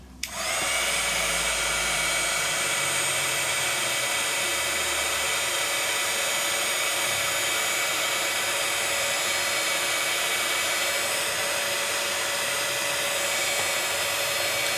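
A heat gun blows steadily on crackle paste, a constant loud whooshing hum that switches on abruptly and holds unbroken to the end.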